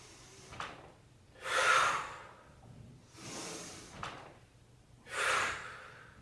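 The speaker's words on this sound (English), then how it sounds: "Breathe in. Breathe out." Slow breathing in and out during a traditional Pilates rolling exercise: several soft, close breath bursts, each lasting about a second, separated by quiet gaps, with no talking.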